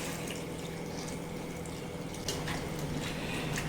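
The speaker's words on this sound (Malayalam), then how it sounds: "ഇനി ഇതിലേക്ക് വെള്ളം ഒഴിക്കുക." Water pours steadily into a pressure cooker holding turmeric and salt, a continuous close splashing rush that grows slightly louder partway through.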